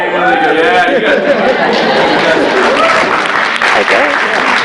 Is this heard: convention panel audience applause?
yes